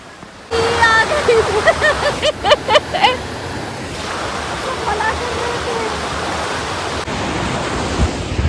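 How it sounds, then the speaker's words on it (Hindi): A tall waterfall near Dehradun roars as a steady, full-bodied rush of falling water that fills the whole clip, with people talking over it near the start. "और लुक एट दिस झरना, ये कितना ऊंचा है"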